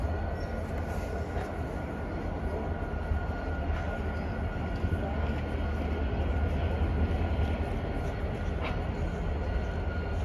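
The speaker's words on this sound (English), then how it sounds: "Oh, there's a train rolling by." A massive freight train rolls past on tracks near downtown Montreal, a steady, loud low rumble and clatter of rail cars that fills the whole stretch without pause.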